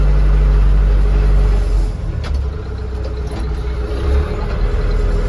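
A Scout 404C tractor engine runs in a field, a loud, steady low diesel rumble with a constant drone that dips briefly and holds on.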